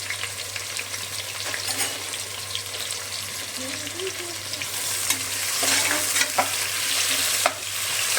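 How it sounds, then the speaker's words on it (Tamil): Onions frying in oil for mutton biryani, a steady broadband sizzle with stirring scrapes and clinks, louder toward the end, while a low steady hum runs underneath. "நல்லா வெங்காயம் வந்துட்டு நல்லா ப்ரௌன் ஆகணும்."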